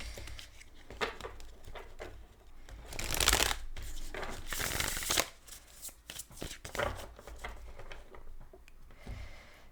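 Tarot cards riffle and slap together in repeated shuffles, with a louder burst of rapid shuffling in the middle and softer handling and taps around it.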